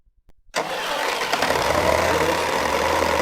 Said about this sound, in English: Tractor's moving.